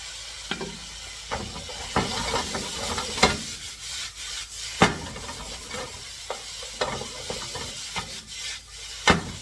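Noodles stir-frying with soy sauce in a pan, a steady sizzle broken by repeated scraping and tossing strokes of the utensil, close and fairly loud, with no talk over it.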